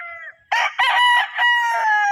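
Gamefowl roosters crow on a farm, several loud, drawn-out calls close by following one another with brief gaps, no voices in between.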